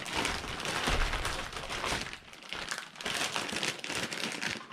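Plastic bubble pouch and Ziploc bag packaging crinkled and handled while unpacking a small online order, close, continuous rustling and crackling in uneven bursts, with no talk.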